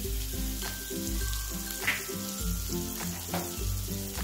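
Cumin, mustard seeds and ground masala sauté in hot oil for stuffed eggplant curry, a continuous crackling sizzle heard up close with a few soft bursts of spatter and no speech.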